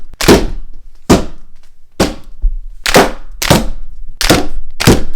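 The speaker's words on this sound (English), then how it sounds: "I felt I wanted to try out shooting all of my new bolts" Bolts shot from a band-powered launcher, six or seven loud, sharp snapping shots spaced about a second apart, each with a brief thudding decay, heard close with no talk.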